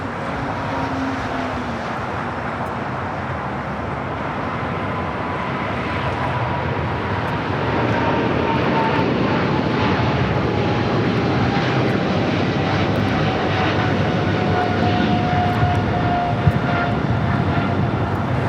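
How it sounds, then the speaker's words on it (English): An American Airlines Boeing 777-300ER takes off with a loud, steady jet engine roar. The sound grows slightly stronger partway through and carries on as a sustained rumble with a faint whine. "This is American Airlines 136 taking off to London Heathrow on a 777-300 ER."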